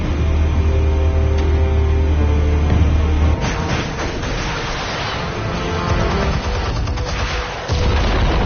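Explosives going off in a PS4 video game: a loud deep boom with sustained low rumble for a few seconds, then a crackling, rumbling aftermath and another burst near the end, with no voices.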